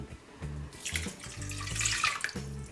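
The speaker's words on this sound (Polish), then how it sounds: "Zalewamy je taką trochę ponad połową szklanki ciepłej wody." Warm water, a little over half a glass, pours and splashes into a bowl in a few uneven bursts while making dairy-free, sugar-free challah dough, close up and fairly quiet.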